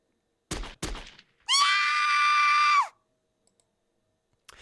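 In the video game Chaos;Head Noah, a woman lets out one sustained, high-pitched scream lasting over a second, preceded by two sharp distant cracks, with near silence afterward.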